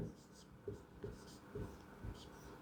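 A pen writing numbers on paper or a board during an arithmetic lesson, several short scratchy strokes in an uneven rhythm, close and fairly quiet, with faint speech in the background.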